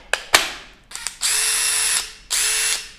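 Cordless 18V impact driver, Makita, DeWalt or Zubr, spinning alone in several short bursts: quick taps first, then two longer sustained runs with a harsh, buzzy mechanical whir.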